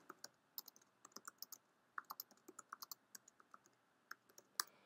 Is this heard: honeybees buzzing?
no